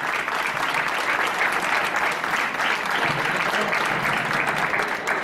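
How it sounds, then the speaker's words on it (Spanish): Steady, dense applause from an audience at an award ceremony for festival committees in Villaviciosa, evenly loud and continuous for the whole stretch with no speech over it. "Un aplauso para la mujer"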